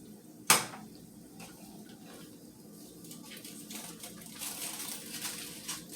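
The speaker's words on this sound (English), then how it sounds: "Let me get my ribs out the oven." BBQ pork ribs are taken out of a home oven, opening with one sharp metallic clank of a pan or rack, followed by softer kitchen rustling and shuffling.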